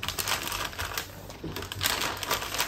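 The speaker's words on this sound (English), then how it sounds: "Hear the sound of the paper crunching away." Biodegradable paper trays being crunched and crinkled, a dense run of crackly rustling that carries steadily for a few seconds, close to the microphone with no talking.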